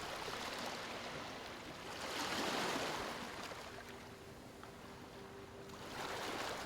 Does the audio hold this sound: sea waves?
yes